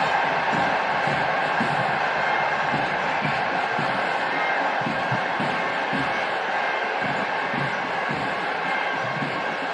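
Football fans in a packed stadium at the Santosh Trophy final in Manjeri beat out a Viking clap, with sharp collective claps repeating at a slow, regular pace over a constant roar of crowd noise.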